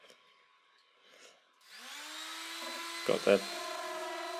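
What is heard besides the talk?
random orbital sander smoothing picture frame corners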